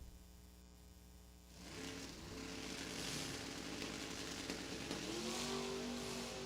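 An Oldsmobile drag racing car launches down the strip at a hot rod reunion, its engine swelling from a low idle hum into a loud, sustained roar that climbs in pitch, heard from a distance without talk.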